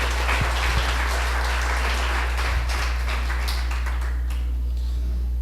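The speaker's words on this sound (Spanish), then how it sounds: "Le da un fuerte aplauso al Señor." Church congregation applauding during a Spanish-language sermon, a steady broadband wash of clapping throughout with a constant low hum underneath and no speech.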